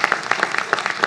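An audience at a regional conference on fighting poverty claps for a speaker, a brief burst of dense, even applause from many hands in a hall.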